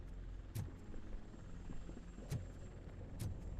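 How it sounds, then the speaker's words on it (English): A TV news helicopter in the RoboCop: Rogue City video game drones as a faint, steady rotor rumble in the background, with a few soft thumps and clicks of game audio over it and no speech. "That's a TV helicopter."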